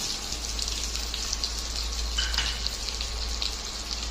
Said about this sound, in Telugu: పచ్చిమిరపకాయలు వేస్తున్నా రెండు ఉల్లిపాయలు వేస్తున్నా